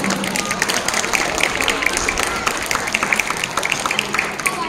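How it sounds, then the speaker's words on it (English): Audience applause for teachers at a school Children's Day celebration, a dense steady patter of many hands clapping throughout, with crowd voices mixed in underneath. "Let's give a big round of applause for our teachers."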